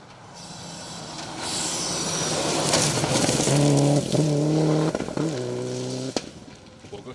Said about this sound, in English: Unmistakable sound of those GR Yaris's